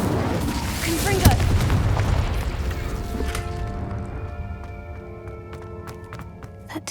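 Confringo spell explosion in Hogwarts Legacy, a deep rumbling boom with a crash near the start that slowly decays into a lingering resonant hum and scattered clicks, loud and close.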